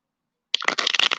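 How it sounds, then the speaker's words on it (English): Tarot cards are shuffled by hand in a quick burst of crisp riffling and flicking, close up. A short silence comes before it, and there is no talk. "Okay, so we're gonna go ahead and shuffle these cards"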